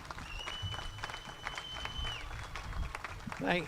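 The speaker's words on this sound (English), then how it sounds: "let's hear a round of applause in Dylan's honor as well" A crowd gives a round of applause outdoors at the 2021 Beaver Falls car cruise. The clapping is fairly faint and scattered, mixed with background voices and ambient noise.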